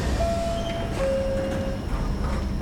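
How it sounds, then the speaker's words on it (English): Subway train in the video game The Division rumbling past at steady loudness, a sustained low roar with a thin whining tone running through it, with no talk. "I just got ran over by a train."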